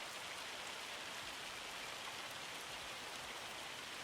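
Hail in Farming Simulator 25 falls as a continuous, even hiss of dense pattering, faint and steady throughout with no talk.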